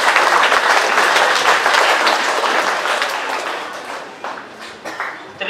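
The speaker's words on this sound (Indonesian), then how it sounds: "Mari kita juga berikan tepuk tangan." A church congregation applauds the liturgy ministers, readers, choir and musicians at a new priest's first Mass in a village in South Solor, with dense clapping loud at first and slowly tapering over several seconds.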